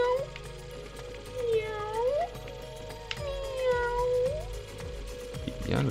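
A cat meows twice in clear, drawn-out calls, close and fairly loud, over a quiet indoor background.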